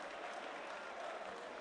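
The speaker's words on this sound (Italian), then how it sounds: "Applausi convinti del pubblico sulla tambureggiante azione dei" A stadium crowd at a Vicenza versus Benevento Serie B football match applauds with a steady, dense patter of clapping heard from a distance for under two seconds.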